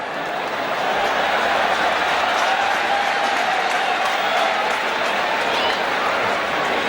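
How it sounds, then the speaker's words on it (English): A cricket crowd at a 1996 India versus Australia one-day semi-final applauds Mark Taylor's fifty, a sustained wash of clapping and murmuring that stays fairly even throughout, with a commentator talking over it. "he gets a deserved hand, not only from the crowd but from his dressing room as well"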